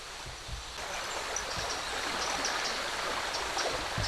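The Vanne river flows steadily through a park, a continuous close rushing of water with a soft hiss, alone without voices.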